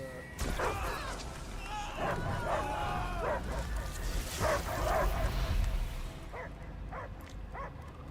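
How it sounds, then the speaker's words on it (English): Dog-like barks, yips and whimpers from a creature in the Marvel's Guardians of the Galaxy video game, heard in bursts against a rumbling game soundscape with character voices talking around them. "I hear only barking."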